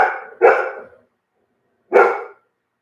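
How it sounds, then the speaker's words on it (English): Dogs bark in three loud, close bursts: two quick barks back to back, then a pause of about a second and one more bark, with silence between them. "What are you guys barking at?"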